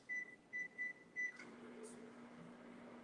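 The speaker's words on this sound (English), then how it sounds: "So I'm going to put them over here in the microwave." Microwave oven melting butter for zucchini bread, four quiet beeps as it starts and then a low, steady hum running on alone.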